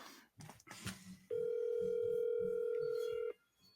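A steady telephone dial tone rings out loud and clear for about two seconds as a phone call is placed, after a stretch of muffled chatter and shuffling.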